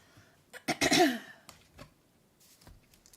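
A short burst of harsh coughing, two or three hacks close together, then quieter throat sounds.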